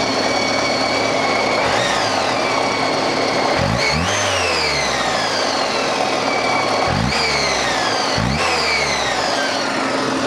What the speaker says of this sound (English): As you can hear, the engine's running sweet as anything.